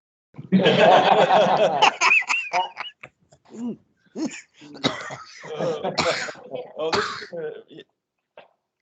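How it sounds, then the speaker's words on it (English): A harsh, raspy coughing burst up front, followed by scattered throat noises and broken vocal sounds in short bursts, close to the mic. "I'm fighting some coughing fits lately"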